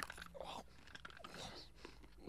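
Crunchy chewing of nuts in the 1984 animated film Nausicaa of the Valley of the Wind, a run of close, irregular bites and crunches that stand alone without talk.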